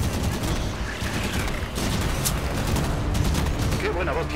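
Gunfire from the Halo 5 video game, rapid bursts of automatic fire and distant booms in a continuous barrage, heard under excited shouting voices.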